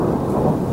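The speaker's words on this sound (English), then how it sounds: "So that was a bit of lightning." Thunder from a lightning storm in Cape Town rolls as a low, steady rumble with rain-like wash, loud and close throughout the short moment.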